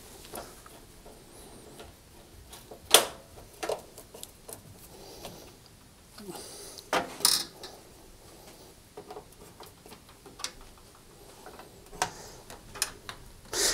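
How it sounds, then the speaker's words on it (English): Screws being refitted to the control panel of a Rangemaster cooker: faint, sparse clicks and small ticking taps of metal, with a few sharper knocks spread through a quiet room. "I can refit the screws to the control panel"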